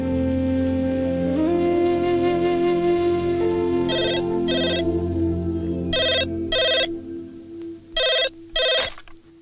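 A telephone rings at home in a Hindi film scene, several bright electronic ring bursts in a repeating double pattern over a sustained musical backing, loud and close.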